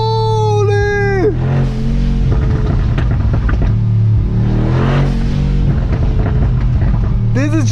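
Brabus G900 Superblack, a 2023 Mercedes-G-based build, revving hard in first gear: a loud, continuous low engine roar that swells and fades, with excited voices over it.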